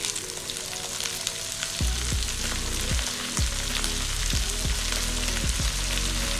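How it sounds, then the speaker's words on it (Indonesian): Green beans stir-fry with shallots and garlic in a hot pan, a dense steady sizzle with several low thumping knocks of a spatula tossing the beans, close and fairly loud; no talk. "Lalu tumis sampai buncisnya matang."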